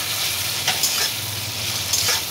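Ginger paste dropped into hot oil in a frying pan, a loud steady sizzle close by with a few short scraping stirs of a spatula, no talking.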